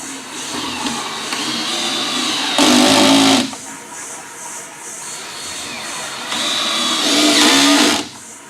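A power driver whirs in two loud bursts while screwing down a homemade Kydex press from the back side, with a quieter steady hum between the bursts.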